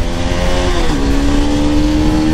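A Bajaj Pulsar NS200 motorcycle engine pulls hard under acceleration, a loud, close, steady droning roar with its pitch dipping briefly at a gear change before holding strong again.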